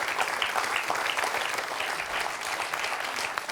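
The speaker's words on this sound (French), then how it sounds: "2 points pour notre championne, Josette, qu'on peut applaudir." A studio audience on the French quiz show Questions pour un champion claps for the reigning champion. The applause is continuous and fairly loud for the whole stretch, with no talking over it.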